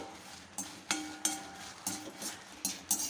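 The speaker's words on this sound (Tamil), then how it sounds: "ஒரு பத்துலேருந்து பன்னெண்டு வரமிளகா எடுத்து வச்சுருக்கோம் அதை வந்து உள்ளே ஆட் பண்ணிவிட்டு அதை மட்டும் தனியாக நம்ம வறுத்துக்கலாம்" Dry red chillies dry-roasted without oil in a kadai over medium flame, stirred with a metal spatula that gives sharp scraping clinks roughly every third of a second against the pan, with no talking.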